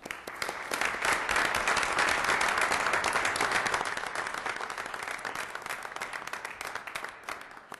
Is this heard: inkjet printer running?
no